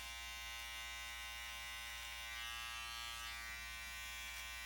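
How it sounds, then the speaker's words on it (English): An electric hair trimmer glides over skin during a classic side part combover haircut, giving a steady, close, high-pitched buzz that holds unbroken throughout. "You can just glide the trimmer or the razor over the skin"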